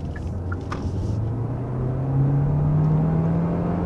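Inside a 2024 Hyundai Tucson hybrid accelerating beyond 60 mph, a steady low engine hum slowly rises in pitch over heavy road and wind rumble, growing slightly louder toward the end.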